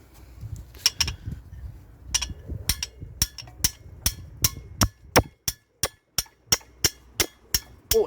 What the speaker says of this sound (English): that definitely requires my hammer